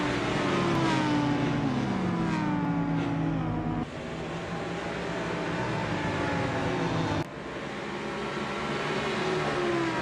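BMW and Audi touring race cars lapping a track, their engines roaring loud and continuous, the pitch rising and falling through gear changes, with a couple of abrupt shifts as they pass.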